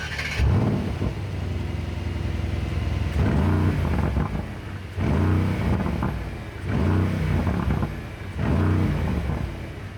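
A Mercedes-AMG GLC63S Coupe facelift with a particle filter revs repeatedly, loud and close, in five rising bursts of throaty V8 engine and exhaust separated by brief dips back toward idle.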